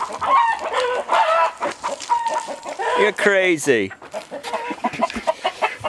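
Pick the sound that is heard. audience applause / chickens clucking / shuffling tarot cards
chickens clucking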